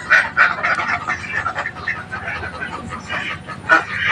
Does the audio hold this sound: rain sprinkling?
no